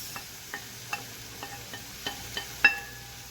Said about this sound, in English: So I'm gonna stir for say 2 minutes